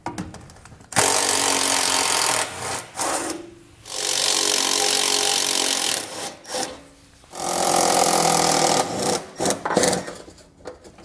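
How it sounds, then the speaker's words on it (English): Power tool with an 8mm socket backing screws out of Ford Edge trim, a loud whirring drive in several bursts of one to three seconds separated by short pauses and quiet handling noises. "We'll go ahead and remove the screws now."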